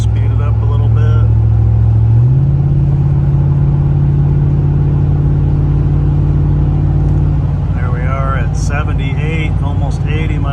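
A car with a Rough Country exhaust cruising on a freeway, giving a steady, loud, low droning engine rumble, with a speaking voice over it toward the end.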